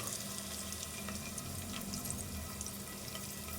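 A tap runs steadily while a medium-to-large onion is rinsed for a Telangana-style goat trotters curry, giving a soft, continuous, close splashing hiss with faint clatter.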